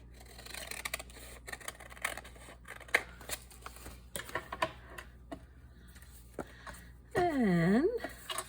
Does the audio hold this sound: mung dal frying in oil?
no